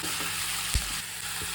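Pumpkin pieces for a pumpkin palya being stirred in a hot pan, a steady close frying sizzle with a few soft scraping stir strokes and one brief thump, no talk.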